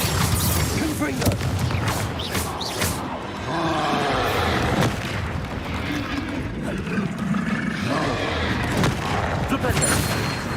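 Confringo explosive spells cast repeatedly in Hogwarts Legacy, a string of loud blasts and crackling bursts over dense game noise, with a voice speaking the incantation.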